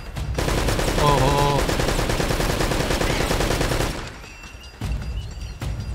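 Rapid gunfire from Uncharted: Drake's Fortune rattles loudly and continuously for about four seconds, then breaks off into quieter ambience with a few more bursts near the end.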